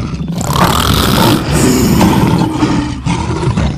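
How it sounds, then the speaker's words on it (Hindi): A lion's loud, sustained roar echoing up from inside a well, rolling and reverberant, with one brief break before the roar swells again over nearly four seconds. "कुएं के अंदर से आती हुई अपनी ही दहाड़ने की गूंज सुनकर उसने समझा कि दूसरा शेर भी दहाड़ रहा है।"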